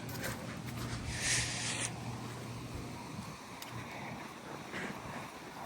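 Cold wind gusts across the open air at Hunters fishing pond in San Antonio, Texas, buffeting the microphone in a low, uneven rush with a brief rustle partway through.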